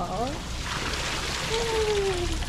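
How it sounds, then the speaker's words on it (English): Water pours steadily down a wall waterfall at a Bali resort beach house, a constant close splashing hiss, with a voice talking over it. "Going through this wall waterfall."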